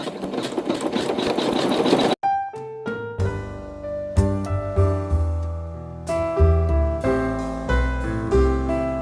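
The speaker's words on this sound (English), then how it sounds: "we're going to sew some bubble quilting" A sewing machine stitching bubble quilting runs in a dense, steady whir for about two seconds, then stops and gives way to bright, plucked tonal music for the rest.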